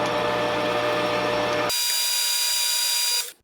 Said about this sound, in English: in today's lathe lesson, we will learn how not to use a grooving tool as a turning tool